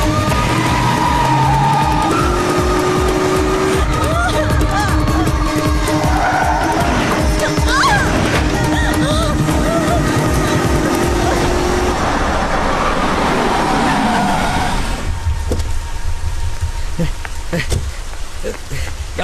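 A car drives and turns through streets, with engine noise and tire squeal rising and falling over a loud, busy road backdrop while voices talk over it.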